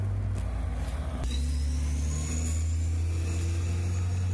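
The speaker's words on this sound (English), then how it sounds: "It's noisy here. I gotta wait for vehicles to go by." Vehicles drive past on a nearby road in a loud, steady rumble of tyres and engines, with one passing car swelling and fading, and no talk.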